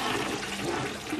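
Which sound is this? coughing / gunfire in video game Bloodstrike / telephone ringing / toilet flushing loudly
toilet flushing loudly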